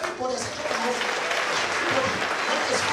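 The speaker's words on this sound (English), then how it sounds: "Give the Lord a clap of his honor." A church congregation breaks into steady, dense clapping, a continuous wash of many hands sounding fairly close for the whole span.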